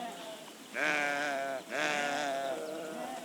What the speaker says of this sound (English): most of the dry grasslands are grazed with a herd of sheep and